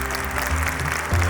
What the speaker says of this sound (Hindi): कितने लड़के हैं, सिर्फ वो ताली बजाओ एक बार।